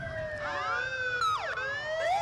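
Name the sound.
rescue squad vehicle sirens in Christmas parade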